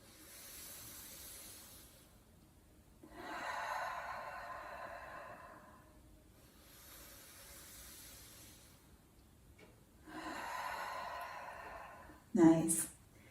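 Slow, deep yoga breaths in a teen yoga class: long soft hissing inhales and exhales alternate in a steady rhythm, close and gentle, with a brief louder puff near the end.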